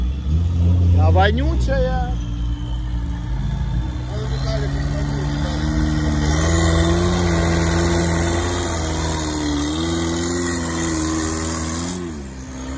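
A UAZ off-road vehicle fitted with a 409 engine idles and revs on an autumn off-road outing, a steady mid-pitched engine drone rising and falling with throttle, close by, while people talk over it.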